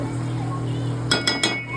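Three quick metallic clinks of a utensil against a pan while chicken masala is mixed, close and bright over a steady low background hum.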